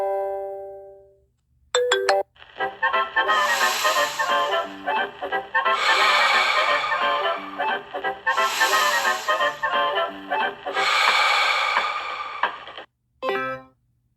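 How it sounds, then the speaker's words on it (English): A phone ringtone for an incoming call plays in repeated bright melodic bursts, four loud rings separated by brief gaps, close and clear with no talking over it. "Of course, Dr. Crow is calling us."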